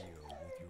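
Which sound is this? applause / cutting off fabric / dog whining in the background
dog whining in the background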